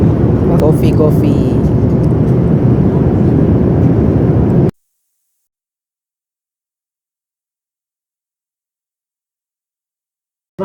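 A steady, loud airplane cabin roar fills the space during a flight approaching Frankfurt, Germany. The broad drone holds for almost five seconds, then cuts off abruptly to silence.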